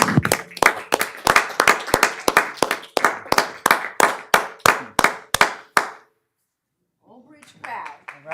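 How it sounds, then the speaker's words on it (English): Applause for athletes and their coach at a township council meeting: a small group claps in a fast, even rhythm for about six seconds, then it stops and people begin talking. "One more round of applause for our athletes and our coach."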